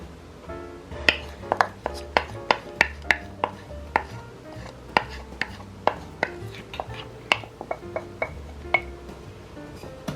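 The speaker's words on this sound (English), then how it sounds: "Now we have to stir this mixture up until it thickens." A spoon repeatedly scrapes and clinks against the pot while stirring a pie mixture in a double boiler, producing a steady series of sharp taps over a quiet background.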